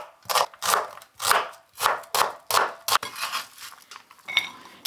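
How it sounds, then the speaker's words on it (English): A knife chops white onions on a board in a steady run of about eight crisp, evenly spaced cuts, followed by quieter scraping and handling sounds, close and with no talk. "Start by peeling and chopping 2 white onions."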